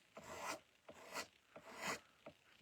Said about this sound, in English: Put it down and scrape through it.